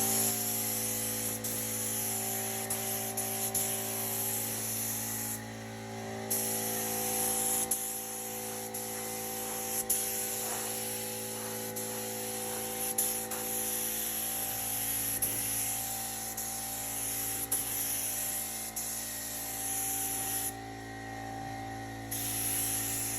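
A spray gun fed by a 20-gallon compressor lays down 2K primer at about 22 psi, a steady, close hiss of air and atomised paint running continuously with a few brief pauses and faint mechanical clicks.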